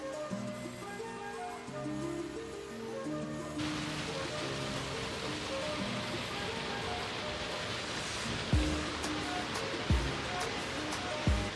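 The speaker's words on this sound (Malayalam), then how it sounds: "അടവി കുട്ടവഞ്ചി സവാരിക്ക് എത്തുന്നവർക്ക് വളരെ എളുപ്പത്തിൽ എത്തിച്ചേരാവുന്ന ഒരു ചെറിയ വെള്ളച്ചാട്ടമാണ് കോന്നി മണ്ണീറ വെള്ളച്ചാട്ടം" Small Mannira waterfall at Konni, Kerala, fed by a forest stream, rushing steadily with a dense continuous roar of water, fairly close, with a few louder splashes toward the end and no talking.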